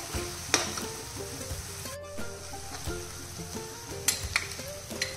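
Onions frying in hot oil in a kadhai with black pepper, cloves, bay leaves and garlic, a steady close sizzle with a few sharp clinks of stirring, no talking.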